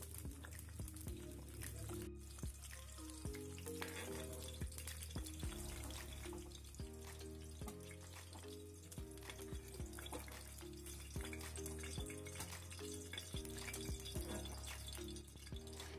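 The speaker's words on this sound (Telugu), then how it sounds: "ఆయిల్ హీట్ అయ్యాక కట్ చేసుకున్న వంకాయలను అందులో వేసి వేయించుకోవాలి." Cut eggplant pieces shallow-fry in hot oil for a Hyderabadi-style stuffed eggplant curry, giving a steady, soft sizzle that runs throughout beneath background music.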